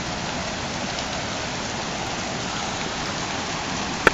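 Heavy rain from Hurricane Irene in August 2011 pours down in a dense, unbroken roar of drops striking surfaces, steady and close throughout, with one brief sharp knock at the very end.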